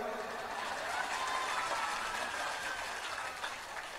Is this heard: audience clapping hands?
yes